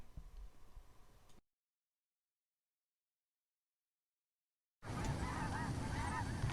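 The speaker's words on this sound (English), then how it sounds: "Oregonians can see these geese year-round, even when they raise their young, called goslings." Geese honking at Denman Wildlife Area near Medford, Oregon, a dense outdoor chorus of calls that breaks off into silence and then comes back at full strength.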